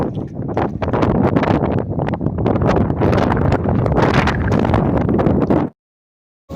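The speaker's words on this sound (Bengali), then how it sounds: "হাওয়ায় কিছু শোনাই যাবে না, প্রচন্ড হাওয়াও কিন্তু" Strong wind batters a fishing boat at sea during rain, a loud, continuous roar of gusts buffeting the microphone that cuts off abruptly near the end.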